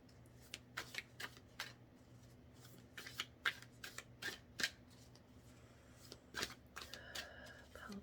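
Oracle cards are shuffled and drawn in a quiet room, giving soft, quick bursts of riffling and flicking that come in irregular clusters, with a faint steady hum underneath.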